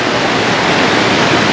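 A waterfall near the village of Tkhagapsh in the Lazarevskoye area of Sochi gives off a loud, steady, close roar of rushing water with no break and no voices.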